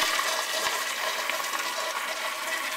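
An American Standard Afwall 1.6-gallon toilet flushes with a loud, rushing gush of water heard up close for a few seconds.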